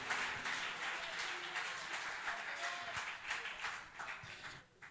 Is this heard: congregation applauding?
yes